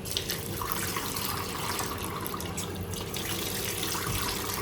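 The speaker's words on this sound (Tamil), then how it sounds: "இது பச்சை தண்ணி, இது சுடு தண்ணி." Cold and hot water running steadily from bathroom taps in a tree house in Munnar, a continuous splashing flow into a basin, close and alone.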